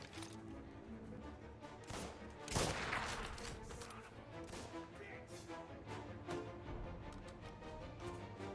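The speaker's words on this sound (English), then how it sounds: "I hear someone shooting at me" Gunfire aimed at the player in the video game Mafia Definitive Edition, faint scattered shots with one louder crack near the middle, heard over a low game background.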